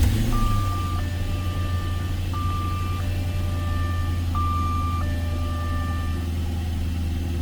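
A car engine idling steadily with a low rumble, under a repeating pattern of electronic chime tones from the dashboard, with no talk.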